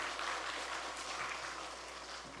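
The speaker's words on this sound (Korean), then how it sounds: "좋은 찬양대 허락하신 하나님께 다시 한번 영광의 박수 한번 하겠습니다" A church congregation at a Korean Easter Sunday morning service claps for the choir, a steady, fairly soft wash of applause heard from a distance that continues evenly throughout.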